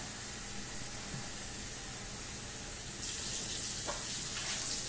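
Tap water pours into a measuring cup in a home kitchen, a steady hiss that swells louder and brighter partway through with small splashy changes as the cup fills.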